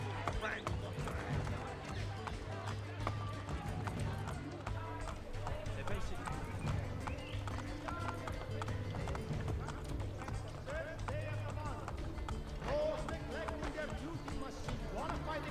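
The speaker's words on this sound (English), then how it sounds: "first game where you can ride a horse through the city" A horse gallops through city streets in Assassin's Creed Brotherhood, its hooves drumming in a quick, steady rhythm that runs throughout, partly buried beneath ongoing talk and a low background hum.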